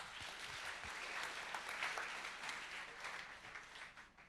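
Audience applause for a demo team at a hackathon closing ceremony, a faint, distant, steady wash of clapping lasting several seconds and tapering at the end.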